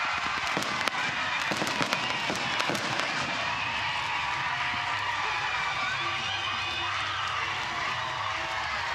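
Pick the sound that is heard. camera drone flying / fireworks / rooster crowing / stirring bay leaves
fireworks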